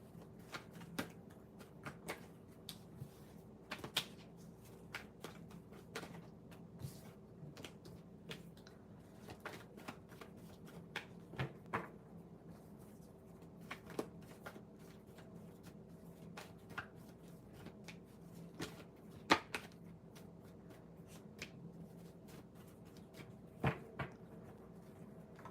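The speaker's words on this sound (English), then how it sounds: "shuffle the cards." Tarot cards being shuffled by hand in a quiet room, a steady run of soft papery riffles and taps with sharper clicks now and then, close and low in level, with no talk.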